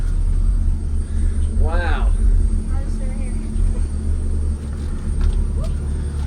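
A competition car audio sound system pumps loud, deep bass that rumbles steadily throughout, with a short exclaimed voice reacting partway through.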